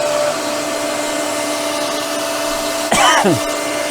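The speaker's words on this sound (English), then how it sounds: "So what you hear is a slight rub from the actual shaft." A steady mechanical whine of a CNC spindle runs throughout, then near the end a brief, louder scraping rub of the cutter shaft in a corner cuts in with a sweeping tone.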